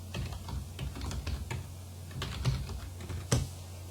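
Credentials being entered on a computer keyboard: quiet, close key taps in an irregular run, with a few firmer strokes, alone in a silent room.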